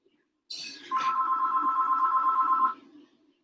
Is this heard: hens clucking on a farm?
no